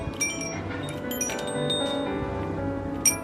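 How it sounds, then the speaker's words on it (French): A small doorbell in a medieval village near Nice gives bright, light tinkling chimes, with short metallic clinks at the start and another near the end. They ring close against a low hum of outdoor ambience, and no one speaks. "En fait c'est une sonnette de porte"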